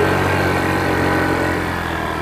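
A motorcycle engine runs steadily close by at a constant idle-like drone on a rural worksite, with no voices over it.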